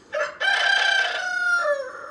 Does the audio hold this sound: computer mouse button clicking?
no